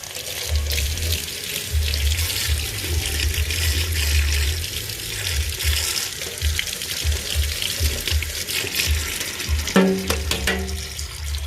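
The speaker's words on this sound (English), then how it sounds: "So you walk back over here to the sink, turn it on warm water again." A warm-water tap runs steadily into a sink at a truck stop, a continuous rushing splash that fills the space for several seconds, with a brief clatter near the end.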